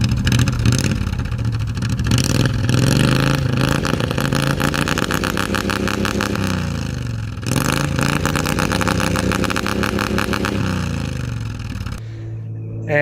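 Hot-rod tractor engine held at high revs against a homemade grounding-type rev limiter, a loud sustained buzzing roar with rapid stuttering cut-outs, pitch sagging and climbing, then dropping to a lower idle near the end.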